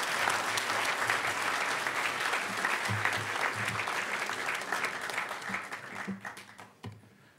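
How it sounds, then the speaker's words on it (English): A conference audience at a hacker gathering's closing ceremony applauds the speaker selection committee, a full sustained round of clapping that tapers off toward the end, with a few scattered claps lingering. "Everybody give Greg and the speaker selection committee a huge round of applause."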